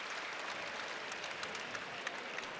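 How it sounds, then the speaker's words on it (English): A Notre Dame basketball crowd applauds steadily during a Radford game, a dense, even wash of clapping lasting the whole moment with no clear voices on top. "he gets a round of applause by this crowd here at Notre Dame"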